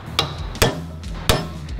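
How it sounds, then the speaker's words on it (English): A center punch is struck into a marked steel wall before drilling, giving three sharp metallic taps spaced irregularly, close and clear against a quiet background. "So Kenner just center punching it now"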